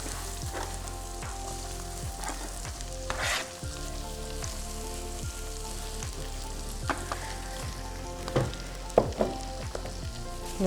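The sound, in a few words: onions frying in hot oil with cumin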